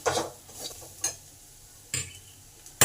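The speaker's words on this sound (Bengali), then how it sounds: "মশলাগুলোকে একটু ভালো করে কষে নিতে হবে" Spices for rohu fish chops stir-fried in a pan, with a few sharp scraping strokes of a spatula at irregular intervals over a faint sizzle, close and moderately loud.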